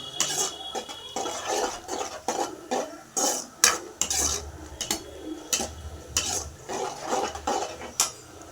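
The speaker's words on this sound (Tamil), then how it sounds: "டொமேட்டோ சாஸ் ஊற்றிக்கோங்க guys. நல்லா ஸ்பீட்லேயே வச்சுக்கோங்க, நல்லா கிளறி விடுங்க." Gobi manchurian being stirred in a pan after tomato sauce goes in, with rhythmic spoon-on-metal scrapes and clanks over a soft sizzle, close and fairly loud, no talk.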